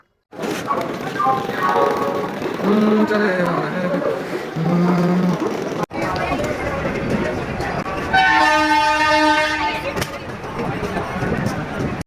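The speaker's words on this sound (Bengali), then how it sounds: "ট্রেন এসে প্ল্যাটফর্মে ঢুকছে" A Duronto Express train rumbles loudly close by as it pulls into a platform, with people talking over it and a long horn blast sounding near the end.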